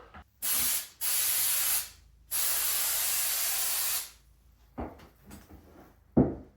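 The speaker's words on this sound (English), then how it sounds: "maybe I'll spray it down towards the floor" An aerosol can sprays in three hissing bursts, one short and two long, followed by a few soft knocks and clicks in a quiet room.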